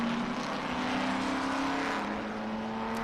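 Race cars on the track at Barber Motorsports Park, a Porsche among them, give a steady, loud engine drone that holds through the whole stretch with no break, heard from a short distance with no talk.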